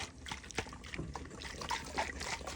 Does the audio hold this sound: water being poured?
yes